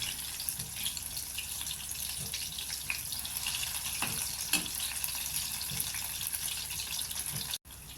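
Prawn pakoda pieces deep frying in hot oil give a steady, soft hiss and crackle with small pops scattered throughout, close and continuous, no voices.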